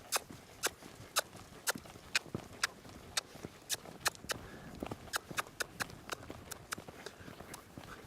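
A young green horse moves around a circle, its hooves striking the ground in a steady, even rhythm of distinct clip-clop beats, fairly close and otherwise quiet.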